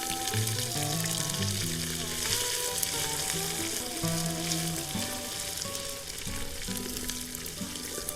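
Ginger garlic paste frying in a clay pot for chicken pot biryani, a dense, continuous sizzle with occasional stirring, close and steady throughout, with no talking.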